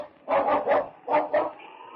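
A dog called King barks several times in quick bursts, close and loud, in a radio drama set in the Yukon, with no voices over it.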